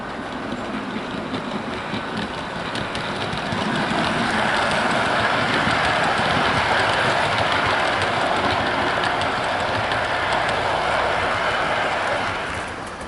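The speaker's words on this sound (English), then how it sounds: "I've got the Bachmann BR Blue and Grey Mark 1s running around the layout" A Bachmann Class 85 (AL5) model locomotive pulls BR blue and grey Mark 1 coaches around a layout, a steady close whirr and rolling rumble that swells slightly midway and holds for about thirteen seconds.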